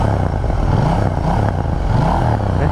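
KTM Duke 790 motorcycle engine revving up close by, a loud throaty roar swelling and falling in repeated bursts over under three seconds.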